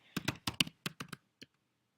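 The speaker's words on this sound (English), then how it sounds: "we're going to start typing within that block." Typing on a computer keyboard: a quick run of about nine crisp, close key clicks in an uneven rhythm, ending with a lone final tap and then silence.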